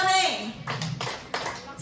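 A group of mothers claps out a rhythmic clapping chant during a school session, two short bursts of hand claps following a spoken call, fairly close and moderately loud.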